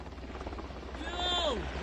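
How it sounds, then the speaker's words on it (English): A medevac helicopter flies off after a drone strike on a group, its rotor noise rising briefly and then fading amid background chatter and other noise. "that helicopter's getting the hell out of there quick"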